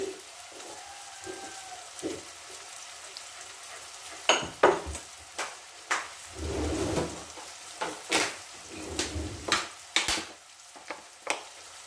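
Turmeric and coriander powder fry in a pan for a lentil dal curry, with a low sizzle under repeated sharp clinks and scrapes of a spoon against metal and a few bursts of louder frying.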